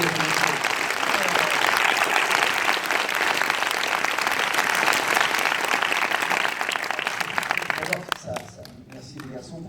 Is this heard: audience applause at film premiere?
yes